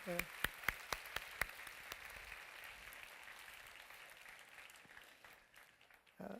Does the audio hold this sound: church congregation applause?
yes